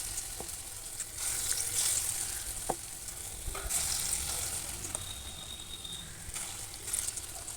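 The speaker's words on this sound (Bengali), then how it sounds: "এবার বড়াগুলো আমি প্রথমে ভেজে নেব। এই যে ছোটো ছোটো করে বড়াগুলো দিয়ে দিলাম।" Small lentil fritters (bora) frying in hot oil in a wok, a steady crackling sizzle that swells and settles, with occasional sharp clinks and taps of a utensil against the pan.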